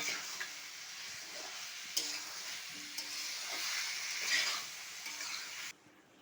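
Boiled taro and potatoes stirred into spiced oil in a pan for a taro curry, with a steady close sizzle of frying and repeated scraping, tapping stir strokes throughout, no voices.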